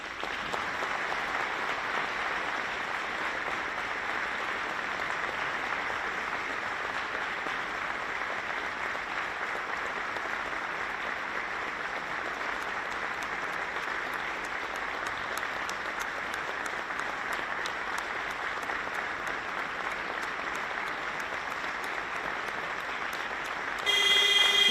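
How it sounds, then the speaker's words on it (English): A basketball crowd at a national league playoff final applauds steadily, in a dense, unbroken wash of clapping that lasts more than twenty seconds. A brief louder burst comes right at the end. "we're going to honor her with a round of applause for 24 seconds"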